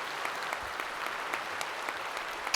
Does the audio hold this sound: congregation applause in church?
yes